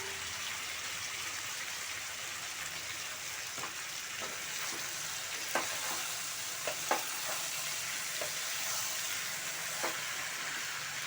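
White brinjal cooking in oil with tomato, salt and chilli, a constant soft sizzle with scattered clicks and scrapes of stirring, fairly quiet and close, no one talking.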